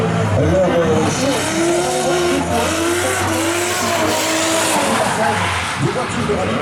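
German rally cars drift at a rally show at the 2015 Rallye Wallonie. Engines roar loud and steady while tires squeal in long wavering streaks, with a voice talking underneath.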